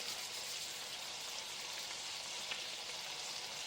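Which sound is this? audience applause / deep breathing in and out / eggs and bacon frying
eggs and bacon frying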